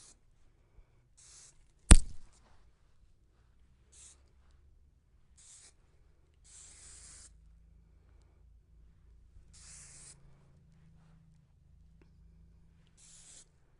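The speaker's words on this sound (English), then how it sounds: "And then just give it that extra spray again." Hairspray from an aerosol can hisses in several short bursts while a woman's hair is being styled, each spritz faint and close with quiet pauses between them.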